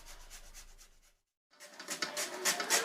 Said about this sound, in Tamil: இதை இந்த மாதிரி நல்லா துருவி எடுத்துக்கலாம்.